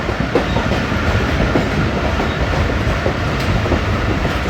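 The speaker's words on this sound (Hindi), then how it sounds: "चकलाला से पास हो रही है ट्रेन" Continuous near roar of the Jaffar Express rolling through Chaklala station on a foggy winter day, wheels clacking rhythmically over the rails without a break and no talking.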